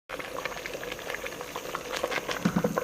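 Tomatoes bubbling vigorously in a pot on the stove for homemade tomato paste, a dense, continuous roiling boil heard up close with popping bursts that grow stronger toward the end.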